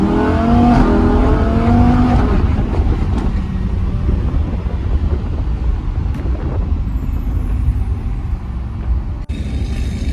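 A Lamborghini's engine drones steadily and loudly from inside the car while driving, with road and wind noise blending into the continuous roar.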